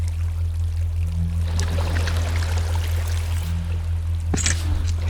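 Water pours in a steady stream for about five seconds over a constant low hum, with a brief splash near the end.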